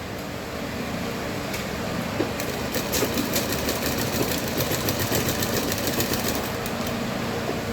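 Sewing machine stitching fabric for a suit neckline, a steady fast mechanical whirr with rapid needle ticking that runs continuously at moderate volume, heard on its own without talk.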